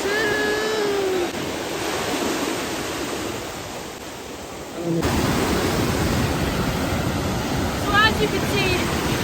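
Ocean waves at the beach wash in as a broad, steady roar of surf that grows louder partway through, with a person briefly talking over it at the start and faint cries late in the clip.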